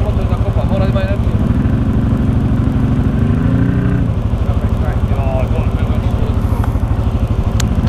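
Off-road motorcycle engine pulling hard under heavy throttle on a steep climb, a loud, steady droning roar with rising revs that stays close throughout.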